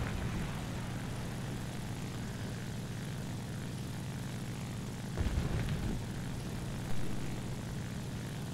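A Japanese propeller fighter plane in an arcade-style air combat game gives a continuous, loud engine drone, with brief louder bursts partway through and no talk.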